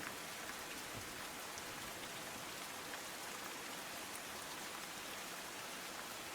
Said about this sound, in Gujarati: તો વાવ, થરાદ અને સુઈગામમાં ભારે વરસાદ વરસી રહ્યો છે